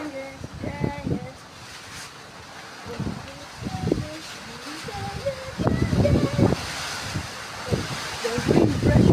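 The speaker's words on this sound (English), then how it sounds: "The wind pressure is really angry for something." Strong wind buffeting the microphone outdoors on a windy day in Durban, South Africa, a steady rushing roar with gusts that swell louder toward the end while a person talks intermittently over it.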